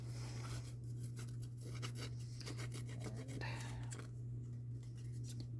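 Paper edges are scraped and rubbed roughly for a distressed look, giving a close, steady rasping with a low hum underneath.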